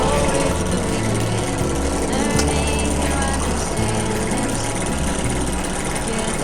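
A free Harbor Freight drill press motor runs continuously, its loud, steady hum and rattle carrying a slight wobble, with a few faint voice sounds.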